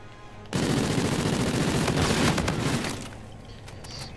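Rapid automatic gunfire rattles in a shooter video game, a loud sustained burst starting abruptly and running about two and a half seconds before easing off into fainter scattered shots.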